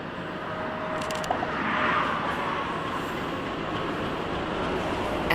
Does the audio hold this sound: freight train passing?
yes